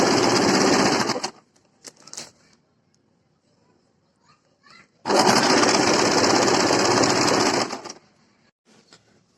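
A sewing machine stitches the seams of an A-line full-flare kurti in two loud, steady bursts, one of about a second and one of about three, with quiet handling between them.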